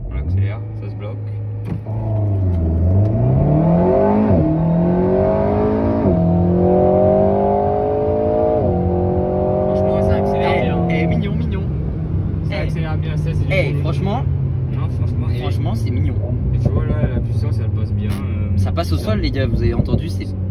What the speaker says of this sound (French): Bon, les gars, petit launch control.